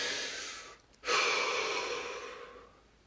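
A person draws in one slow, deep breath, close and soft, after a brief pause of near silence. It trails off gradually.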